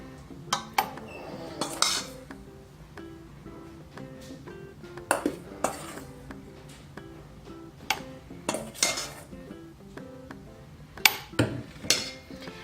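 Batter of milk and flour for vanilla cupcakes is mixed in a bowl, with repeated clinks and scrapes of a utensil against the bowl in an uneven rhythm and a few sharper knocks; no talking.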